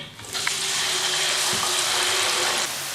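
Strips of cut potato fry in hot oil in a home kitchen, a loud, steady, crackling sizzle that starts with a splash-like burst as they go in and holds evenly throughout.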